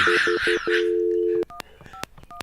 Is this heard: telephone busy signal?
yes